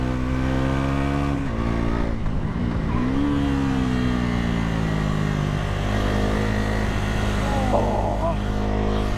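A Bajaj Pulsar NS 400z motorcycle runs on a race track, its engine droning steadily and loud with shifting rising and falling revs throughout, while someone talks over it.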